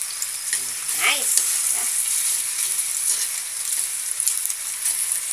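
Pork tocino frying in a pan, giving a bright, continuous crackling sizzle with steady hiss throughout, while a person says a few short words early on.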